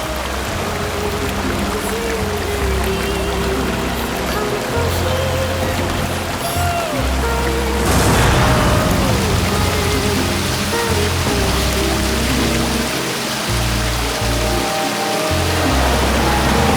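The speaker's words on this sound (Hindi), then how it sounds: "जुम्मा पट्टी के पास पानी के झरने हैं, वो देखने गए हैं" Water rushes and pours continuously near a waterfall in a village area, a loud steady splashing roar with some tonal background sounds layered over it.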